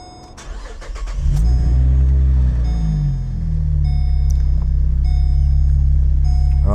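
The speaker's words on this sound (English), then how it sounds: "Let's start the car" A car engine cranks for about a second, catches with a rising roar and then settles into a steady low idle rumble, loud and close with no speech.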